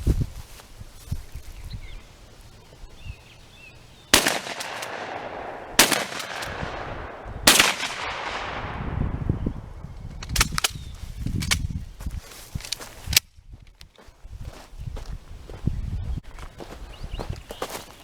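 Shotgun with a 30-inch barrel fired outdoors: several sharp, loud reports spaced a few seconds apart, each followed by a fading echo, with quieter shuffling and handling noises between shots.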